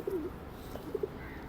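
Pigeons coo softly at a Sunday bird market in Lalukhet, a few short, low, throaty calls set apart by pauses against a quiet background.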